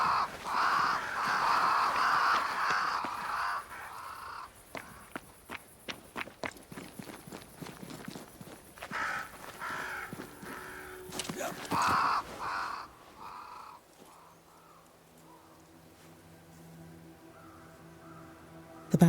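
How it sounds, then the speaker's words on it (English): Crows caw around a great tree in the video game Banishers: Ghosts of New Eden, with repeated harsh calls at moderate distance over footsteps and ambient rustling that fade toward the end. "Crows. They flock to that great tree up there."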